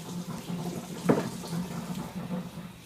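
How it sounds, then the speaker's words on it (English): Glass bottles are rinsed under running tap water, a steady soft splashing flow broken by one brief, brighter splash. "you can just go like this, you know, rinse them off, get all that garbage off"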